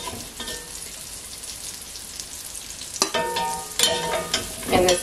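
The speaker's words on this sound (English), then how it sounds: "Now we're going to sear our rabbit." Rabbit meat sears in a hot pan with bacon grease for gumbo, a steady close sizzle that swells into louder bursts of crackling and spattering toward the end, with no talk.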